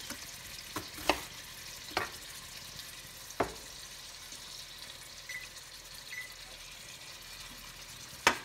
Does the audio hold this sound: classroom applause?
no